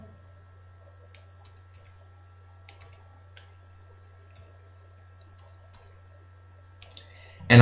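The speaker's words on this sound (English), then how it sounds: "Type that into a calculator." Calculator keys are tapped in sparse, soft, irregular clicks over a low steady hum, followed by a louder burst of noise at the very end.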